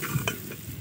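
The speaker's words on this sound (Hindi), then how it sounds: "ये देखें हमारी दाल की जो है भुनाई हो रही है" Dal (lentils) roasting in a pan, a short soft burst of dry sizzling with a quick stir scrape, faint and close.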